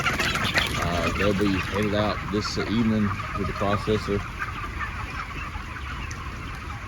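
Thirty-five-day-old broiler chickens clucking and murmuring in a chicken house, a dense, continuous crowd of bird calls close by, with someone talking over the flock for the first few seconds.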